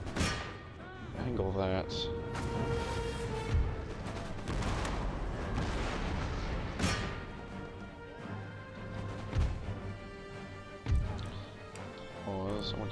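Musket fire in the Empire Total War video game crackles as scattered volleys of sharp pops and thuds amid battle noise, under someone talking with a brief line of speech.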